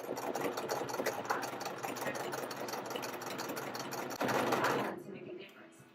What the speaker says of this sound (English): She then sewed up one side of the dress.